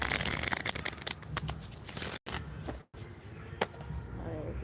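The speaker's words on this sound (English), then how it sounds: "And shuffle the cards a little bit." Tarot cards being shuffled by hand, a dense run of papery riffling and soft flicks with two brief dropouts, close and fairly quiet with no talking.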